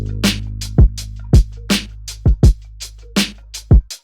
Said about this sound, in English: So the drums and the bass sound like this together.